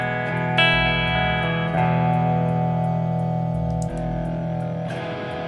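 A guitar played through a LINE6 HX Stomp running a Hiwatt 100 clean amp model, used in a four-cable-method rig, rings out in sustained clean chords with a few fresh strums, close and steady with no talking.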